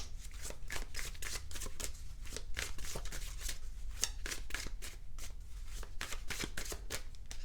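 Oracle cards shuffled by hand in a steady run of crisp riffling bursts, close and continuous with no talk.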